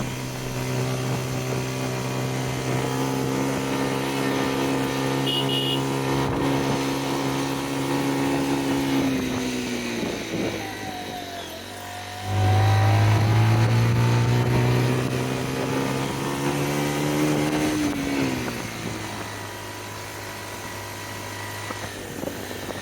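A motorbike engine labouring up a steep hill road in Bandarban while held in a single gear, a sustained droning hum that dips, then swells louder and higher as it strains, before settling back to a steady pull.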